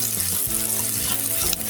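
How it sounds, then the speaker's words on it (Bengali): Bitter gourd slices fry in a pan, a short, steady close sizzle with a faint stir or scrape near the end. "এই তো করলাগুলো কিন্তু আমার ভাজা হয়ে গেছে।"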